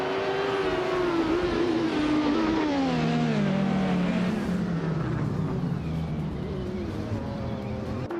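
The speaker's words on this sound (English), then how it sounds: "Scott Dixon is leading from pole in a classic 2012 Morgan LMP 2QI." A 2012 Morgan LMP2 prototype race car engine in a racing video game at Estoril, loud and steady, with a rising, falling pitch as it accelerates and shifts through gears, heard alone.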